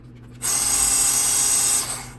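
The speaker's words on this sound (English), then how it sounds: "We're gonna drill the tops off these posts so we can pull the base off and harvest these wheels." An electric drill bores into the posts of a Hot Wheels diecast car base, whirring loud and close in one continuous burst of about a second and a half, then spinning down.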